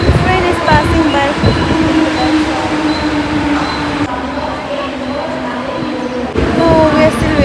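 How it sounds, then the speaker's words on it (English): A train passing on a Mumbai suburban railway line, heard as a steady, loud rumble with clattering wheel noise throughout, easing slightly partway through and then swelling again. "Train is passing by."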